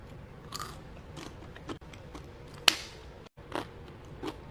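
Pita chips being bitten and crunched with a cheesy Cajun boudin dip, several sharp separate crunches spaced across quiet moments, one especially loud crisp snap near the middle, close and intimate.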